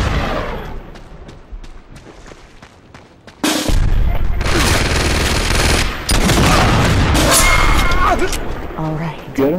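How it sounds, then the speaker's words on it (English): Gunfire and a grenade blast from Uncharted 2's Sanctuary survival mode start with scattered shots under voices, then erupt into two long stretches of loud, heavy explosive bursts and rapid firing that swamp everything else. "I thought it was a grenade right there"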